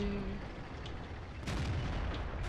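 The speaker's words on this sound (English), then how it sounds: "Oh, hello, artillery!" Artillery fire in a tank battle game, heard as a dull, heavy boom landing partway through over a dense rumbling battlefield background, with no voices.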